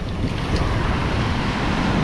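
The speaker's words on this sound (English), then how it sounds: "We got some water coming." Storm surf on a beach during a powerful storm: a loud, close rush of water washing up the shore, mixed with heavy wind buffeting the microphone.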